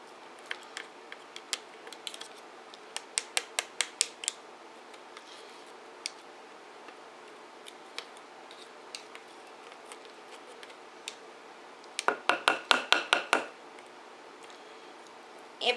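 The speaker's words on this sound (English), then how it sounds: "I'm going to take my spoon and try to get as much as I can off of them, and so they'll fall back in this bowl" A spoon scrapes strawberry cake batter off electric mixer beaters into a bowl, making sparse close ticks and clicks that build into a dense burst of rapid scraping near the end.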